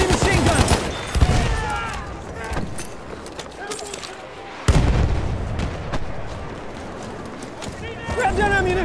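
Enemy machine gun fire and artillery booms in a Battlefield 1 battle, bursts of shots and heavy blasts, with a loud explosion near the middle, under constant shouting voices.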